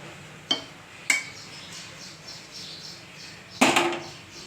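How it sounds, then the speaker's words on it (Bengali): Hot refined oil stirred into cabbage pakora batter in a bowl: a few sharp utensil clinks spaced apart, then a louder scraping, clattering burst, all fairly close over a quiet background. No voices. "গরম তেলটা দিয়ে একটু নেড়ে চেড়ে দিচ্ছি"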